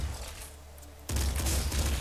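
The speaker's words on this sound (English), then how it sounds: "I'm using pop right now, which is shooting six bullets at once" Pop gun from Nuclear Throne firing six bullets at once, a quiet low hum that suddenly breaks into a loud, rapid burst of popping shots that continues to the end.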